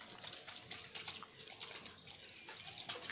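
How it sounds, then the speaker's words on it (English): Water runs steadily from an automated touch-free handwashing machine, a continuous splashing stream with small bursts as hands move under it, close and unaccompanied by talk. "You place your palm here, you wash your hands, let your palms in the water also."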